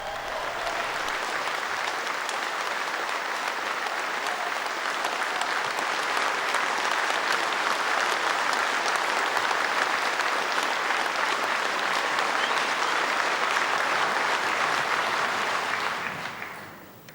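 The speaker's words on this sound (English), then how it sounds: "Let's hear her applause." Sustained applause from a political conference audience greets Margaret Thatcher as she takes the stage in Plymouth in 2001, a dense, steady wash of clapping that holds for about sixteen seconds before fading out.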